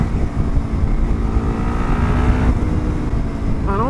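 A Lexmoto LXR380 motorcycle, fitted with a performance exhaust and ECU with the baffle in, runs loud and close with a steady, throaty drone. A brief rising whine comes near the end.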